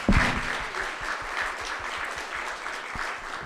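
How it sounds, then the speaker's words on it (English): Steady audience applause for a conference panel, a dense even wash of clapping from a crowd that holds at moderate level throughout, with no one speaking. "So I want to do one last round of applause for our panel here."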